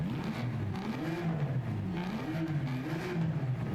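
A V12 car engine revving in Forza Horizon, its rising and falling drone swelling and easing twice in a steady loud wail with no talk.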